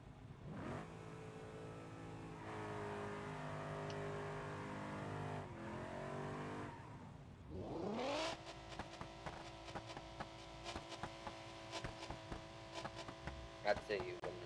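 Engines rev in a BeamNG.drive rev battle between slammed cars, a Gavro V8 and an Ibishu Pessima LX V6, droning and climbing in pitch, then a sharp rise into rapid, choppy high revving.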